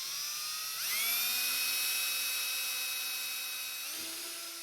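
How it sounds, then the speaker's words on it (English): A power drill bores holes in scrap wood for a shop-made featherboard, a steady high motor whine that rises as it spins up and drops in pitch as the bit loads, fairly faint. "Just going to go ahead and drill these."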